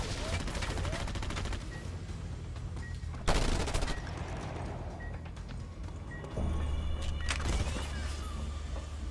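A sentry gun in Just Cause 2 unleashes dense, rapid bursts of automatic fire that keep going throughout, with sharper, louder volleys standing out amid the game's ongoing noise.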